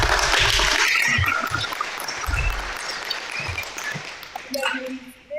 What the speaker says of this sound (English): let's give our girls one more round of applause